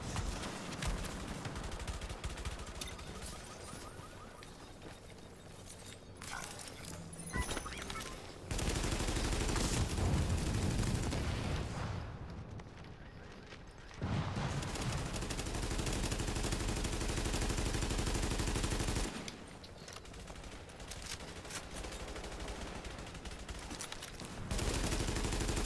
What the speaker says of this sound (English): Oh, they're still shooting